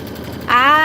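An embroidery machine kicks into a steady, buzzing whine partway through, stitching a Kimberbell Enchanted Winter quilt block. The start is quiet before a loud, even mechanical tone sets in.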